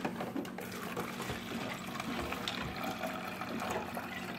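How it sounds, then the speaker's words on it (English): Water running into a container to make juice at home, a steady splashing fill with a continuous trickle throughout, fairly close and moderately loud with no talk over it. "go over here, put water in"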